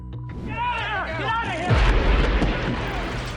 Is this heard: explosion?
yes